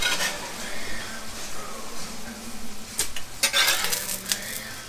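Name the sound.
cast iron pan being picked up and handled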